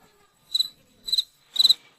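Three bright cricket chirps sound one after another at an even pace against near silence, each a short trilled burst, with a faint click at the very end.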